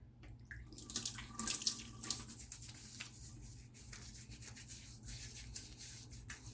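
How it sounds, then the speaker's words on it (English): Tap water runs steadily into a sink for a shave, used for a Stirling Iced Pineapple bloom, with small splashes and hand rubbing, close and fairly quiet with no talk. "let me put this bloom water on my face"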